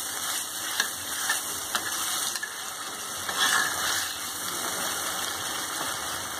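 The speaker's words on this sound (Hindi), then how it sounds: "पालक मेरा भुन गया अच्छे से" Spinach frying in a pan for palak dal, a moderate hissing sizzle with occasional stirring knocks, accompanied by steady electronic whine tones and a low engine-like hum in the background.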